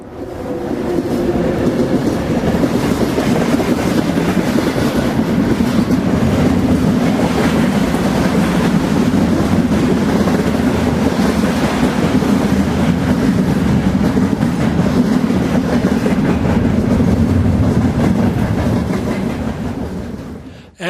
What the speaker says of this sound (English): As the train crossed Pony Bridge M66, engineers felt a sudden jolt.